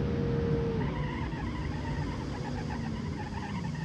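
Engine drone of a 1,500-horsepower car in a video game, a steady low rumble with a brief higher whine near the start, continuous and fairly loud throughout.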